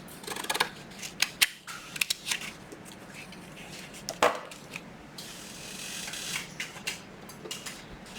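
Scissors snipping through a gift card, several crisp separate cuts close by, followed by quieter rustling and handling of the card.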